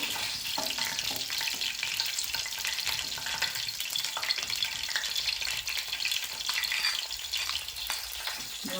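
Curry leaves frying in hot oil, a close, steady crackling sizzle with small pops and occasional stirring throughout, no voices.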